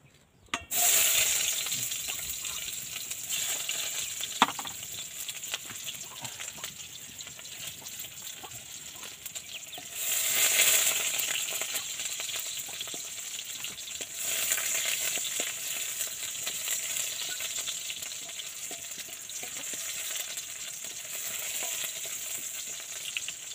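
Garlic and onion sautéing in cooking oil, with a continuous close crackling sizzle that flares louder twice, then settles into a steady hiss, accompanied by an occasional clink; no talking.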